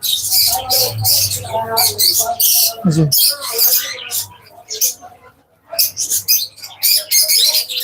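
Small birds in a pet bird shop chirp and tweet rapidly in close, bright bursts, with brief pauses, over a low steady hum; someone speaks briefly among them.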